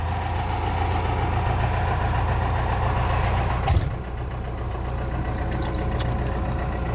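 A Ford F350 truck engine, a bullnose-era project truck, runs at a steady, loud idle throughout, with a brief burst of revving or a sharp transient near the middle before the low rumble settles and continues.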